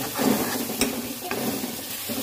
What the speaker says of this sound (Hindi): हमारा मसाला भी अच्छी तरह से भून चुका है।